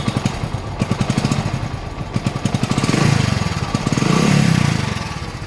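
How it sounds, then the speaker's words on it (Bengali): A Hero Splendor motorcycle engine idles through its silencer, a steady close putter of rapid exhaust pulses that swells slightly louder in the second half. "দেখেন সাইলেন্সারের সাউন্ড।"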